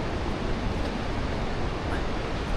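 A river rushes near a suspension bridge on the Kanchenjunga trek, a loud, steady broadband roar of flowing water that fills the scene without a break.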